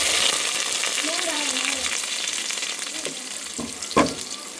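Ginger and garlic sizzle steadily in hot oil for a bitter kambili lemon pickle, a continuous close frying hiss with a couple of brief stirring clinks near the end.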